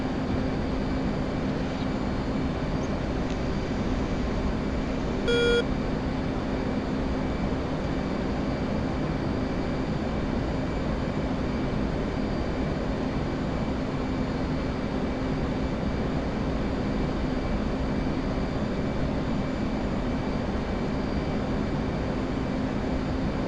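A steady, loud jet roar from an F/A-18 Hornet in the DCS flight simulator as it climbs away from an aircraft carrier, a constant broadband rumble with no voices.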